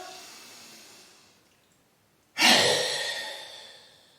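A deep breath during a throat chakra breathing exercise: a soft fading exhale gives way to a short pause, then a sudden, strong, close airy rush of breath that tapers off slowly.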